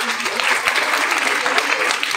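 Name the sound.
audience applause at a school event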